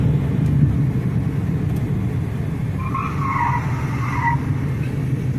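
A truck skids and loses traction: a loud, steady low rumble of engine and tires runs throughout, with a brief higher squeal rising midway before fading back into the rumble, no talking.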